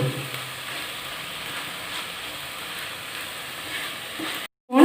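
Chicken curry sizzles and fries in a pan as curd is poured in, a steady close hiss with faint stirring, cutting briefly to near silence before a louder burst at the very end.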